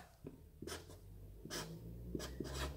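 Pen scratching on paper to jot down a 140 psi air line pressure reading from a compressor gauge, several short strokes in bursts, close and fairly quiet with low background hum.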